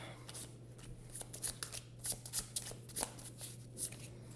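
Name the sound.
shuffling cards for the Legendary deckbuilding card game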